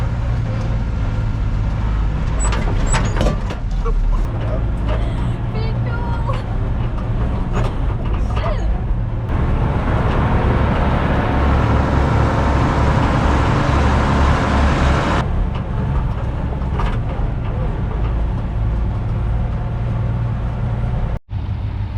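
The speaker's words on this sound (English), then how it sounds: "Jess is doing an amazing job in the Unimog" An ex-army Unimog truck drives off-road with a steady, loud engine drone and rumbling, rising to a heavier roar in the middle before easing back.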